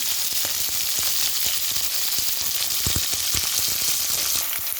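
Green chilies hiss and crackle in a hot pan, a steady close sizzle broken by a few sharp pops and light knocks.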